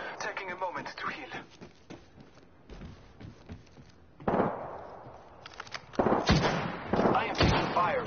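Bursts of video game gunfire on a PS4 shooter, sharp cracks scattered in clusters, getting louder and denser toward the end, with a voice talking intermittently underneath.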